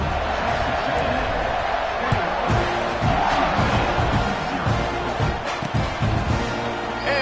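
Home crowd at a Texas A&M college football game, a dense roar of cheering and shouting filling the stadium steadily, with voices calling out over it.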